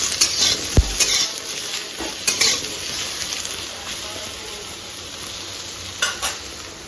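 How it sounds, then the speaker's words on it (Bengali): Ridge gourd and potato fry in a pan with a steady sizzle, broken by a few sharp scrapes and clinks of a spatula stirring against the metal; no talk. "ভালো করে ঝিঙে আলুটা ভেজে নিয়ে পোস্ত বেটে এনে দিয়ে দেবো।"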